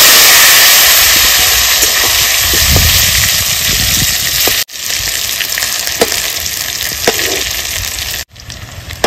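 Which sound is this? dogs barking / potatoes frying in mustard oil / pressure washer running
potatoes frying in mustard oil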